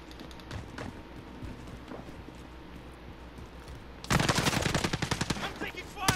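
Enemy gunfire in a tactical shooter video game: a quieter stretch of faint ambient noise gives way to loud, rapid bursts of automatic fire that hammer on continuously to the end.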